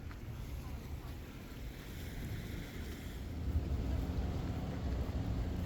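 Steady breeze buffeting the microphone over a low, continuous wash of waves on an overcast day at CocoCay island, swelling slightly toward the end.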